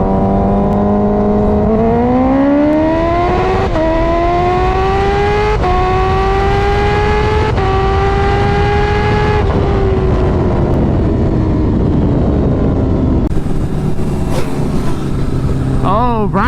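A Kawasaki Ninja H2 and a turbocharged Hayabusa, both making several hundred horsepower, race on a street. A loud, sustained engine roar climbs through repeated gear shifts over about sixteen seconds, with spectators talking and shouting over it.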